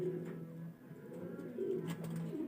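Several racing pigeons, blue bar, checkered and golden hens, coo softly in a loft, with low murmuring calls rising and falling continuously at moderate distance.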